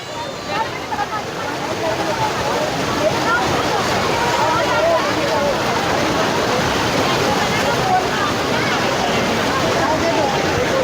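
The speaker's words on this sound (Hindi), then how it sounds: "यहाँ पे लहरों की भी आवाज़ सुनाती हूँ" The Ganga at Haridwar rushes past in high waves, a loud, continuous roar of churning water that stays close and strong throughout, during rain at the ghat.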